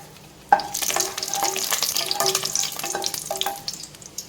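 Dried red chillies dropped into hot groundnut oil in a pan, a sudden sizzle that keeps crackling and hissing close up, with repeated spatula scrapes as they are stirred.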